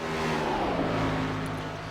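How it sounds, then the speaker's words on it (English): A race car engine in a racing video game drones with a steady, fairly loud revving tone for a brief moment, heard alone without talk. "Thought I heard someone's engines go."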